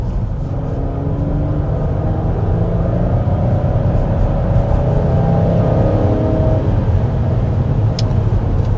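A Chrysler Pacifica minivan with the Pentastar engine and 9-speed automatic accelerates, a loud steady low drone with road rumble and a faint rising engine tone heard from inside the cabin.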